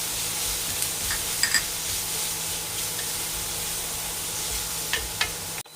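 Onions and cashews fry gently in a pan, giving a soft, even sizzle with a few light spoon taps and scrapes, close by and fairly quiet.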